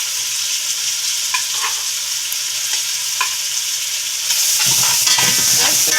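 Onion hits hot oil in a pot for Jamaican-style chicken with bok choy and yellow rice, a steady sizzle and stirring that jumps to a louder, fuller crackle partway through as it goes in.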